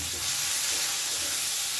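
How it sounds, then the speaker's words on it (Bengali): Chopped tomato, onion and garlic fry in a pan for an eggplant bharta, giving a continuous close sizzle with the scrape of stirring and no voices. "এবার এই টমেটো দিয়ে পেঁয়াজ রসুন ভালো করে মিশিয়ে একটু নেড়ে নেড়ে ভাজা ভাজা মতো করে নেব।"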